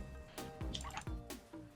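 Nami's water bubble ability in League of Legends, a string of wet bloopy drip and splash effects, four or five short watery pops in quick succession, close and clear over quiet game ambience.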